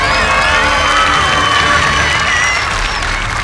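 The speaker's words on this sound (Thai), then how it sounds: "ขอชั้น2เชียร์เพื่อนๆหน่อย" Children on a Thai junior cooking competition show cheer for their friends, a loud, continuous crowd of high-pitched shouts, whoops and squeals filling a large studio.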